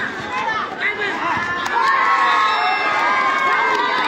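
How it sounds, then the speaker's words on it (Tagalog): A large crowd at a men's and women's volleyball match at a youth centre in Maadi, Cairo, cheering and shouting loudly and continuously, with children's high voices and overlapping chatter, swelling louder partway through. "Lakas na sigawan dun ah."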